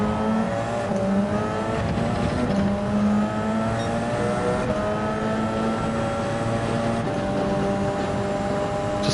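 Engines of the 787 and other race cars in Gran Turismo 7 drone steadily at high revs, a continuous loud roar with shifting harmonic tones as cars run in a slipstream down a straight.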